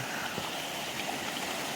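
Fresh stream water flows steadily at Bhavnath near the Girnar hills, a constant, close rushing wash with no breaks.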